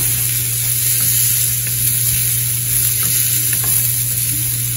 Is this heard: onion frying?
yes